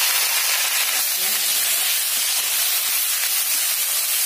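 Cut chengmora fish pieces drop into hot oil over lightly browned potatoes in a home kitchen, giving a steady, loud, even sizzle that hisses on without a break.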